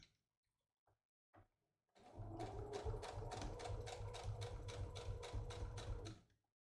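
After a few soft clicks, a sewing machine runs steadily for about four seconds, a fast rhythmic mechanical stitching chatter close by, then stops.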